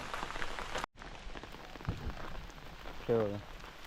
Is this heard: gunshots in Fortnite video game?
no